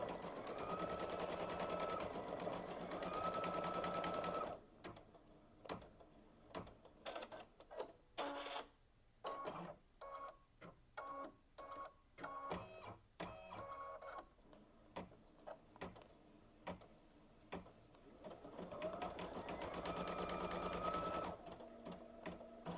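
Embroidery machine stitching a candy cane gift tag: sustained rapid needle buzzing, then a stretch of irregular clunks and short bursts, then steady stitching again, close and moderately quiet.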